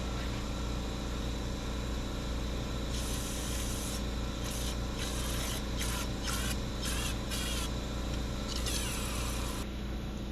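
Bursts of spray hiss as old fuel is blown out of a fuel line on a 1962 Chevrolet Impala, several irregular blasts from about three seconds on over a steady low hum, fairly close and loud.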